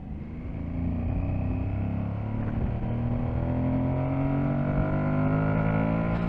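An Aprilia Tuareg 660 motorcycle in 5th gear accelerating as the throttle opens: a steady engine drone rising gradually in pitch under rushing wind, heard from the rider's position without speech.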